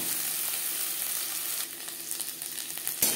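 Carrots fry with spices in a small amount of oil for spicy semolina upma, sizzling softly and steadily close by with a light stir near the end.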